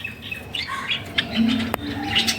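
Pet birds give a quick run of high, bright chirps and tweets at close range, with a soft lower call and a brief sharp click in between.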